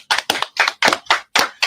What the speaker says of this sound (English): Let's give a live hand clap for Mr. Dwight Howard.